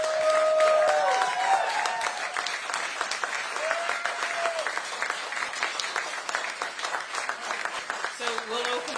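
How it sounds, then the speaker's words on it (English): Crowd applause at a Senator Kamala Harris event in Muscatine, Iowa, with brisk, steady clapping and voices talking over it. "Hey, let's give her one more round of applause."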